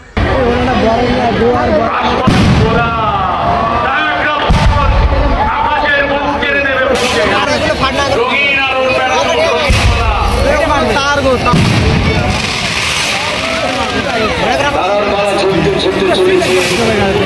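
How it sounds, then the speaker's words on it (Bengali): Fireworks and firecrackers burst at a crowded Christmas fair, with repeated booms and crackling bangs over a constant background of crowd chatter. "তো গাইস চলো এখানে কিরকম বাজি ফাটা দেখা যায়।"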